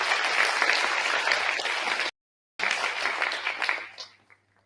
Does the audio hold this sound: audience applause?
yes